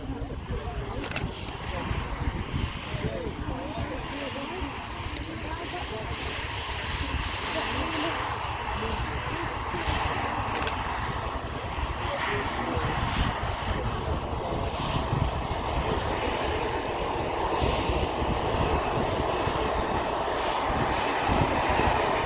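An EasyJet Airbus A319-100 departs Manchester Airport, its engines a steady, loud broadband roar that holds and slowly swells over about twenty seconds, with a few faint clicks on top.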